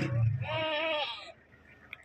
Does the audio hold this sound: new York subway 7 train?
no